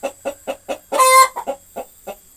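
Black hen clucking before laying an egg, a rhythmic series of close, loud clucks with a drawn-out squawk in the middle and no one speaking.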